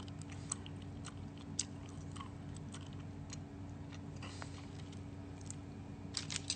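A person chews close to the microphone, making faint, irregular small clicks and smacks over a quiet steady background hum, with no speech.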